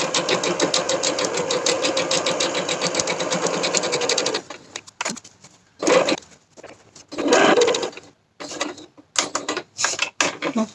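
A sewing machine runs continuously for about four seconds stitching a second seam on a Fôlô top, then continues in short separate bursts with pauses between, close and fairly loud.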